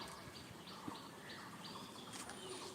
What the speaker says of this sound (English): these days actually I am able to hear some new birds also